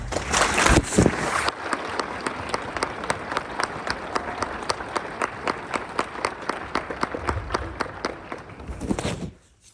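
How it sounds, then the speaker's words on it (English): Applause at a 2023 valedictory graduation ceremony honoring graduates' families: a loud burst of crowd clapping at first, then steadier rhythmic group clapping that carries on for several seconds before fading out. "A round of applause for our families."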